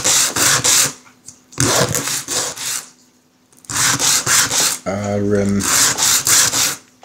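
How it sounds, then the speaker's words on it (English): Rasping strokes shave and flatten a small nub on the end of an MDF dungeon game tile, coming in three close, loud bursts of dry rubbing with short pauses between them. A brief spoken word falls in the second gap. "just to shave off and flatten the nub on the end of it"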